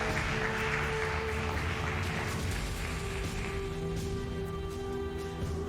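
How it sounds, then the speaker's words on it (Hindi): A church audience claps together in a dense, sustained burst of applause, filling the room at moderate volume without speech. "ताली नहीं बजाएंगे आप?"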